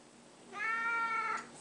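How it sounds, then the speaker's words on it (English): A cat meows once, a single drawn-out, loud and close call pleading for food, with no voices around it. "the vicious food loving cat. He doesn't stop asking for food."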